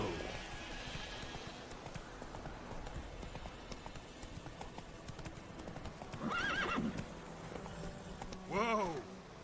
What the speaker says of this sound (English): Just follow the road, Roach.